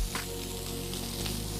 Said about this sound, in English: You want that sizzle when your seafood's going into the pan.